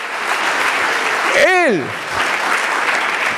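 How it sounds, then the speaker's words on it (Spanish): Congregation applauding the Lord during a church sermon, a dense broadband wash of clapping that runs steadily throughout while a voice speaks a word over it with a rising-falling sung or shouted tone. "aplaudamos al Señor"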